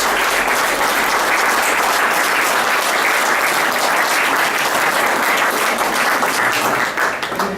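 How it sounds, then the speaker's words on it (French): An audience at an afterwork networking event breaks into loud, dense, sustained applause that fills the room evenly and tapers slightly near the end. "je voudrais qu'on l'applaudisse encore"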